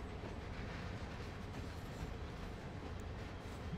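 A slow freight train runs on the Peninsula Route in the Train Sim World 2020 video game, giving a steady, continuous rumble of rolling wagons and faint mechanical clatter without talk.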